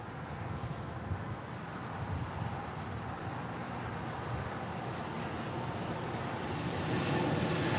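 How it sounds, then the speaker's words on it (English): A DHL Boeing 777 freighter rolls for takeoff on runway 25 left, a steady broadband jet engine roar with wind noise that swells louder toward the end, with no voices. "We have DHL now rolling on 25 left. It's a 777 freighter headed out to Cincinnati"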